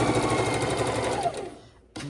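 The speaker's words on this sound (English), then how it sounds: "we are sewing our big beautiful blocks together" A sewing machine stitches quilt blocks together, running in a fast, steady mechanical rattle up close before slowing and stopping, then briefly restarting at the end.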